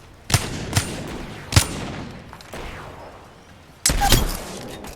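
Gunfire in Apex Legends: several sharp shots spaced irregularly, then a louder burst near the end, close and punchy with no talk over it.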